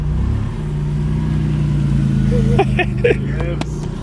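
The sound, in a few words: car engine revving with throttle, vacuum leak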